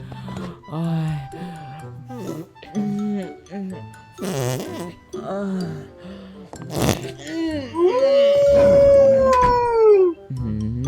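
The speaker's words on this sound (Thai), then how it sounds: "ยังหอนไม่เลิก" A dog howls in the morning, long wavering cries that rise and fall, with a sustained howl near the end, heard close while someone talks and grumbles over it.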